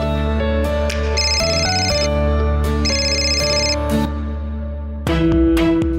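An incoming call sets a phone ringing indoors in a living room. It gives a loud, bright electronic ringtone in repeated tonal bursts over a music bed, and no one speaks.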